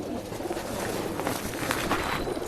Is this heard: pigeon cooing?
yes